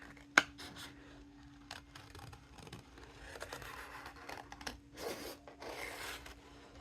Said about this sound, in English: what I'm gonna do is just cut this kind of sort of in half